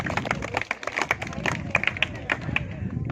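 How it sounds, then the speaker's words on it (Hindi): Students in a Class 10 classroom at a Rajasthan government school clap together loudly after a correct quiz answer. The clapping forms a dense burst of close, uneven hand claps with voices mixed in. "ताली बजा दो भाई जोर से।"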